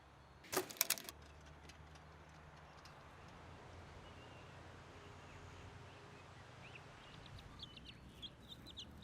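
A brief burst of clucking near the start, then quiet outdoor ambience with faint, scattered bird sounds and a low steady hum.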